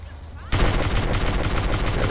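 Endless automatic gunfire from the GTA San Andreas unlimited-ammo cheat kicks in after half a second of quiet and keeps going as a loud, dense, rapid stream of shots until the end.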